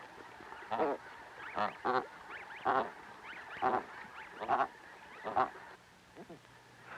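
Geese honk on the Arctic tundra in a series of about nine separate calls, some in quick pairs, at moderate distance against a quiet background.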